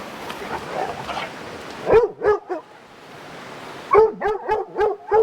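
Dogs bark repeatedly nearby, a cluster of sharp barks followed by a pause, then another rapid series of yapping barks over faint background noise.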